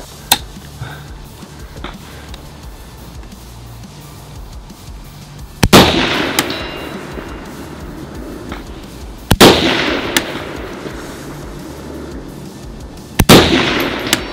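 Three sharp, loud reports from an AK-104 rifle during a long-distance stress shoot, spaced a few seconds apart, each with a ringing tail, over steady outdoor background noise.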